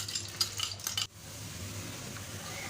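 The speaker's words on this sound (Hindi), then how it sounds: "जैसे घी गर्म हो जाए थोड़ा सा, तो इसमें लहसुन अदरक डाल के इसको लाइट पिंक करना है" Garlic and ginger going into hot ghee for sarson ka saag, with a clinking spoon stirring for the first second, then a soft, steady sizzle of frying carrying on faintly.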